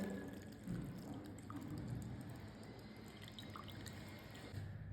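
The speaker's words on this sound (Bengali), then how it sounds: "ম্যাগিটা আমি এবার ছাঁকনির সাহায্যে ছেঁকে নেবো একটু ঠান্ডা জল দিয়ে আমি ম্যাগিটাকে ধুয়ে নেবো" Cold tap water runs over boiled Maggi noodles in a strainer, a faint, steady trickle and splash that carries on evenly throughout with small drips scattered through it.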